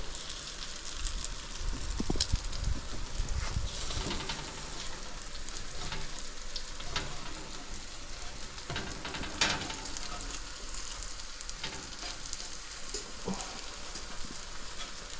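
Bacon strips sizzle and crackle steadily in a frying pan, a dense continuous hiss with scattered pops and occasional clinks of a utensil, close and even in level throughout.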